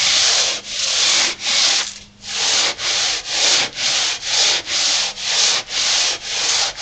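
Balsa wood sheeting on a foam wing is sanded by hand in steady back-and-forth strokes, about a dozen loud rhythmic scrubbing passes close by with only brief pauses between them.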